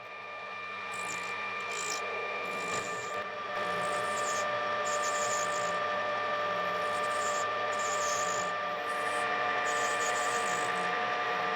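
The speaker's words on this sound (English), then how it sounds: "I'm cutting a 30-degree bevel on it." A lathe cuts a 30-degree bevel on a brass end cap, a steady whining drone with a continuous scraping, rasping tone that carries on unchanged.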